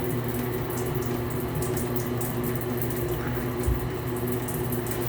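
Water drains steadily from an overhead shower bar being taken apart, a continuous close trickling flow with a low hum underneath and one brief knock.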